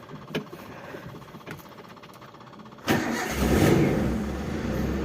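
A 1995 Daihatsu Zebra Espass with a 1300cc engine cranks and starts with a sudden rise in noise, then settles into a steady, rumbling idle, close and clear after a few faint clicks.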